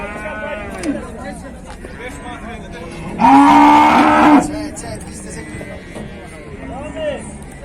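Black calf at a busy livestock market gives one loud, sustained moo of about a second, heard over nearby voices of people bargaining, with other animals calling faintly in the background.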